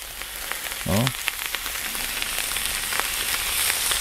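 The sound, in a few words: beef rib steak searing on a hot plancha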